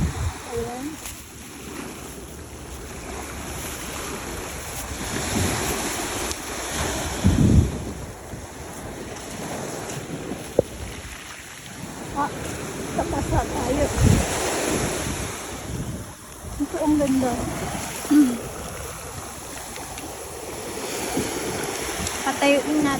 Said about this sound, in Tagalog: Ang lakas ng agos ko ngayon.